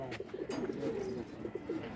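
Pigeons coo in soft repeated bursts from cages, fairly close over a faint background hum, with a couple of short sharp knocks, and no talking.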